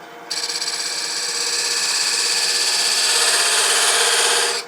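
An M42 steel lathe tool cuts spinning palo santo wood at close to 1,000 rpm, a loud, steady, close grinding whir with a fine rapid chatter that holds continuously from start to finish.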